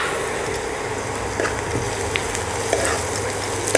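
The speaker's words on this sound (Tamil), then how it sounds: "நல்லா ஃப்ரை ஆகட்டும்" Onions fry in oil with curry leaves and slit green chillies for a vada curry, giving an even, continuous sizzle up close with a few faint taps and pops.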